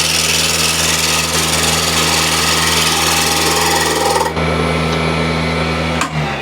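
A woodturning lathe spinning while a gouge cuts a wooden piece, a loud steady motor hum with a rough, rasping cutting noise over it that quiets partway through, leaving the machine droning alone.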